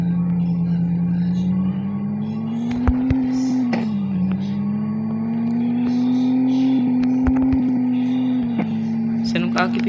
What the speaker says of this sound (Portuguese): Bora dar um berro pra esse carro aqui agora